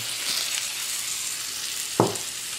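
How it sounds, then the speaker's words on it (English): Steady frying sizzle with a broad hiss throughout, plus a sharp clink of a utensil near the end, as ingredients for soto kambing (goat soto) fry. "Now the next stage, we already see the sizzling."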